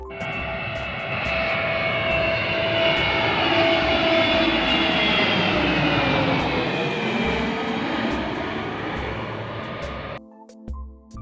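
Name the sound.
Air Force aircraft flying overhead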